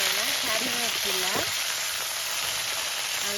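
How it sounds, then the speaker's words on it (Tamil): Mustard seeds and fennel fry in hot oil with a steady, close sizzle and crackle, and a voice speaks briefly over it at the start. "கடுகு நல்லா வெடிச்ச உடனேயும் பெருஞ்சீரகம் போட போறோம்"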